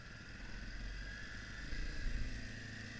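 A 2020 Honda CRF250F dirt bike engine drones on a trail ride, a faint, steady, distant hum that rises slightly toward the end, with no talking.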